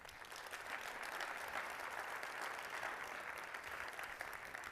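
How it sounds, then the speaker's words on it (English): A Burns Night audience claps for the poet Robert Burns, giving a steady round of applause that runs throughout at moderate volume, heard from somewhat far off. "And you can clap for the poet."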